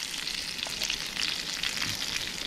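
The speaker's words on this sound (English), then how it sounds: "Turn that up a little bit. Let it sizzle." Food sizzles and crackles steadily in a hot frying pan while wild camping, crisping skin, a dense continuous hiss with scattered pops, close and fairly quiet, without any talking.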